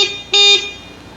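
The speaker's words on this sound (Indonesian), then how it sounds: "kemudian kita coba untuk klakson" Motorcycle horn sounding during an electrical wiring test, one short loud electric toot standing alone after a quieter buzzing tone.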